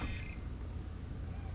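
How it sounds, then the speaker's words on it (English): A telephone rings in a scene from the TV series Lucifer, its trilling bell clear for a fraction of a second before fading into a low background rumble. "Answer the phone!"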